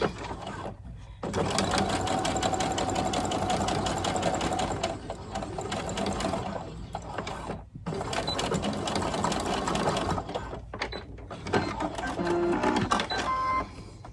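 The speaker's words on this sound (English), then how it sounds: "So I'll even do the stretch stitch." A sewing machine sews a stretch stitch on a pair of doll underwear, running in long steady bursts of rapid mechanical chatter with brief pauses between them, close and loud with no talk.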